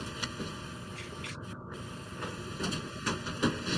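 A 3D printer runs close by with a steady mechanical hum, soft scraping motor movements and faint repeated ticks, all at a low, even level. No one speaks.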